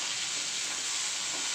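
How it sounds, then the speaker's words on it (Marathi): Okra (bhindi) frying in oil in a pan: a steady, close hiss and sizzle that holds even throughout, with no talking. "तेल घातल्यावरती आपल्याला ही अशी थोडा वेळ भाजून घ्यायची आहे।"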